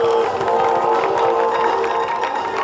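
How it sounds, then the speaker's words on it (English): A rodeo crowd at the Canoe Mountain Rodeo in Valemount, BC, cheering and clapping after a barrel racing run, a steady loud roar of many voices and applause filling the whole moment. "Give her a big round of applause"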